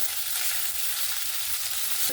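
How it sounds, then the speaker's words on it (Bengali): Tomato pieces sizzle steadily in hot oil while being fried for a bottle gourd curry, a dense, continuous crackle at close range with no talking. "টমেটোটা আমি এখানে ভাজা ভাজা করে নিয়েছি"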